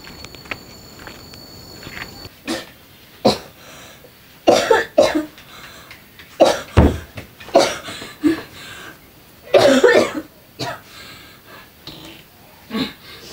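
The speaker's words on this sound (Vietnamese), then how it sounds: "Thế nào cứ ho khụ khụ vậy thế?" A man coughs repeatedly in a comic village scene, a string of sharp, loud bursts spaced irregularly over several seconds, mixed with shuffling steps and throat noises, with no speech.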